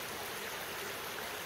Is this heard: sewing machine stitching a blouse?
no